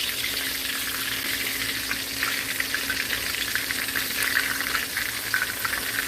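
Steady, loud sizzling and crackling of steak frying in a hot pan, continuous throughout with no voices.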